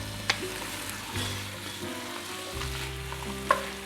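Flour cooks out in a French beef casserole pot with a steady low sizzle, broken by scraping stirs and a few sharp clinks of the spoon against the pot.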